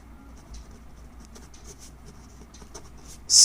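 Pen scratching on paper during a Hindi lesson, a soft steady scritching with brief strokes over a low background hum, ending in a sudden loud noise.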